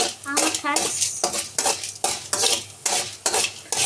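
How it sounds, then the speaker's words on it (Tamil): Urad dal being stirred as it roasts in a pan for mint chutney, with repeated bursts of scraping and clinking from a spoon against the pan, close and fairly loud, with a faint sizzle between strokes. "நல்லா பிரவுன் கலராக வர வரைக்கும் நம்ம மிக்ஸ் பண்ணிக்கணும்."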